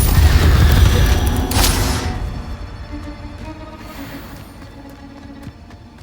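An Incendio fire spell cast in the video game Hogwarts Legacy, a loud whooshing burst that flares and then fades into a crackling, dwindling rumble over several seconds.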